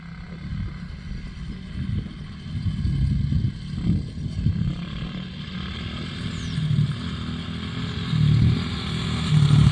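Two small motorcycles ride across a rural meadow, their engines droning and revving unevenly, rising and falling as they pass near and away, with rattling clatter and no speech.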